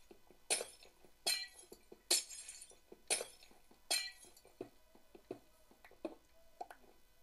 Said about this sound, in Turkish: Cam kırıldıktan sonra geri dönmüyor.